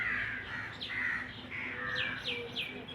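A crow caws repeatedly in the open near a tree, a series of harsh calls at moderate distance, with fainter chirps from other birds and faint background hum.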